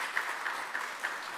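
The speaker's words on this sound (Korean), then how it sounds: "잠깐 일어나실 때 우리 박수로 환영해 주시겠습니다" A church congregation at a New Year's Sunday service claps to welcome visitors, a fairly faint, even patter of many hands with a few louder claps standing out, heard from some distance.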